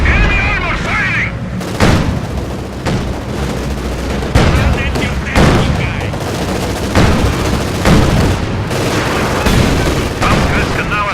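Enemy armor, including a StuG assault gun, fires on light tanks sitting on ice in a Company of Heroes 2 battle: heavy cannon booms and bursts of gunfire land at irregular intervals amid constant battle noise.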